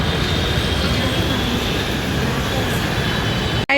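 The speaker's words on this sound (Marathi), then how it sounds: "गाईज जेरोड्याचं मेट्रो स्टेशन बघा" Metro train at a metro station, a loud steady rumble and rolling roar from close by that holds evenly throughout, then cuts off abruptly at the end.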